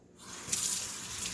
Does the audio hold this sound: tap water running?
yes